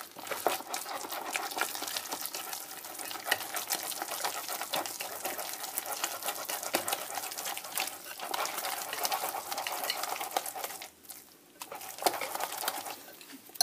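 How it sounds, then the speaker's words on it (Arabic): Oat and chia pancake batter being stirred in a bowl, a steady, continuous wet scraping and sloshing that runs without a break and without any voices. "كنمزج مزيان لي بانكيكس ديالي"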